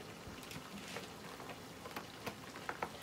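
Mackerel and ground food boiling in a pot, a faint continuous bubbling and sizzling texture with small scattered pops, heard alone without talk.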